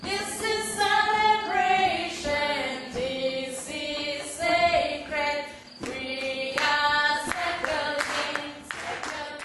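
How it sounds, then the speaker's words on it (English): Traditional African group singing in harmony with hand clapping and drumming underneath, steady and lively throughout, fairly close. "Drums and clapping support traditional African singing."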